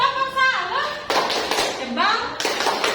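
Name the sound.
class doing a rhythmic 'tepuk salut' clap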